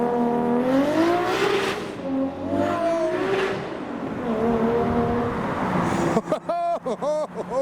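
A blue Toyota Supra at a JDM car meet revs hard, its engine note climbing and falling in sweeping surges. A sharper burst of rapid revs comes near the end over the general noise of the meet.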